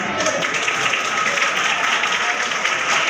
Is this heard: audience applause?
yes